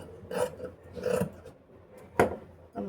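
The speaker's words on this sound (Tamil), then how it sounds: "இப்போ நம்ம ஸ்லீவை கட் பண்ணி எடுத்துக்கலாம்." Scissors cut straight along a fabric blouse sleeve in a few short rasping bursts, fairly close and quiet with pauses between strokes.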